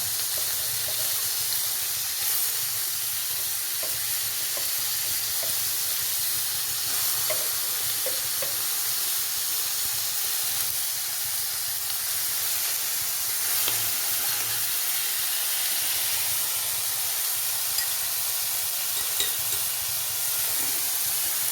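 Sliced onion (sabola) sizzling steadily in hot oil in a pan for a Kerala curry to go with kappa (tapioca), with a constant close hiss and occasional faint stirring clicks, no talking.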